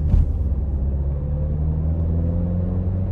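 A 2018 Alfa Romeo Stelvio Ti Sport AWD cruises in fuel economy mode, a low steady engine and road rumble from inside the cabin, with a brief knock at the start, no voices.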